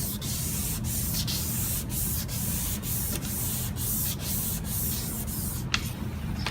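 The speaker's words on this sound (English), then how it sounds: "we're going to use the 1200 and we're going to wet sand it with this." Headlight lens being wet sanded by hand with 1200 grit sandpaper, a close, steady rubbing hiss broken by regular short strokes, alone with no talk.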